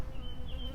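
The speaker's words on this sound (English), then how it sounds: "there's a bee" A bee buzzes close by in a front yard, a steady drone that slides slightly in pitch as it passes over a low background hum, heard alone for under a second.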